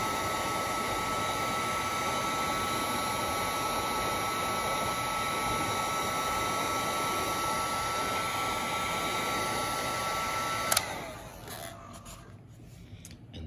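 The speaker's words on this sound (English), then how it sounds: "So we're gonna heat shrink this down." A heat gun blows steadily to shrink heat shrink tubing over vibration motor wires, a loud, even whooshing hiss lasting about eleven seconds before it cuts off abruptly, followed by quiet handling noise.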